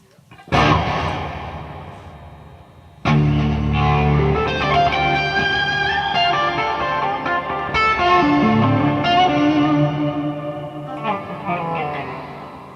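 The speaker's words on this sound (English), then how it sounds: "What a reverb." Electric guitar chords through a Line 6 HX Effects ping-pong reverb ring out with a spacious reverb and echo tail, strummed loudly in two bursts with sustained notes blooming and decaying.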